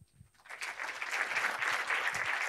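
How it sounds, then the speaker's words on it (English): Festival audience applause welcoming film director Steffi Niederzoll after a screening in Munich, swelling quickly from near silence into loud, dense, sustained clapping. "Please welcome with a very warm applause,"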